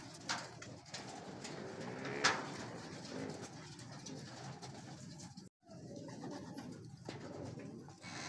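Racing pigeons coo steadily at a training loft in San Pablo, Laguna, during sprint race preparations, with a soft continuous murmur and a brief louder call near the start.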